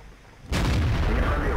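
A single loud tank cannon shot in a World of Tanks–style game with Object 416 and Object 430 II tanks, bursting in abruptly after a quiet lead-in and ringing on with a dense, sustained roar.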